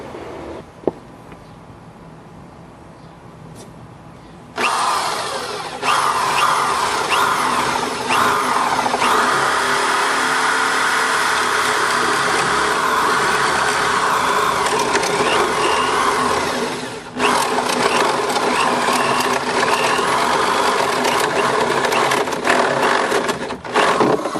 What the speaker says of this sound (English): Now we need our 1-inch hole.